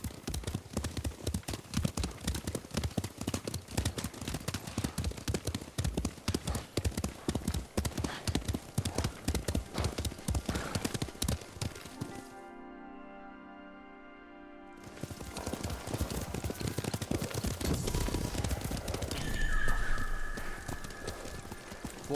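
Horses gallop in the Ghost of Tsushima video game, a dense run of hoofbeats with whinnies, loud and steady for most of the stretch, then a brief lull before the galloping resumes.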